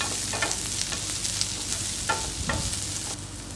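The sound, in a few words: sautéing garlic and onion in a pan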